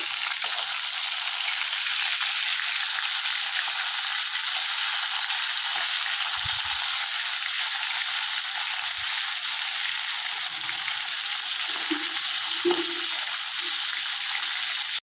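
Tengra fish fry in a pan of hot oil, a steady close hiss filling the whole stretch, with a few soft knocks and scrapes near the end as the pieces are turned over.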